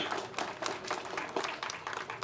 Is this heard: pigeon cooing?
no